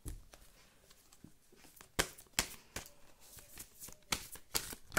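A deck of tarot cards is shuffled up close, with a soft riffling rustle broken by several sharp snapping flicks of cards in an uneven rhythm, fairly quiet overall and with no voice.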